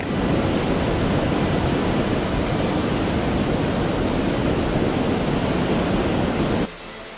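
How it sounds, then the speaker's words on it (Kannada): Floodwater from the swollen Krishna river pours through twelve opened gates of the Hipparagi barrage in Bagalkot, Karnataka, during heavy rains: a loud, unbroken roaring rush that fills the scene, with no voices. "ಬಾಗಲಕೋಟೆಯ ಹಿಪ್ಪರಗಿ ಬ್ಯಾರೇಜ್ ವ್ಯಾಪ್ತಿಯಲ್ಲಿ ಕೃಷ್ಣಾ ನದಿ ಉಕ್ಕಿ ಹರಿಯುತ್ತಿದೆ ಹನ್ನೆರಡು ಗೇಟ್ಗಳನ್ನು ತೆಗೆದು ನೀರು ಹೊರಬಿಡಲಾಗ್ತಿದೆ"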